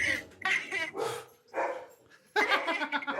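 A dog barks in several loud, close bursts separated by short pauses, with people talking and joking nearby.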